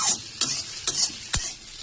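Chickpeas fry in a pan while a spoon stirs them, producing a soft sizzle with four sharp scraping strokes spaced about half a second apart, heard close with no voices.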